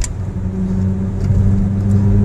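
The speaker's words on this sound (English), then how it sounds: "It's a very fun little zippy car to drive." A Ford Focus SVT drives along with a steady mid-pitched engine hum and road noise, close and fairly loud, the tone holding even without any speech.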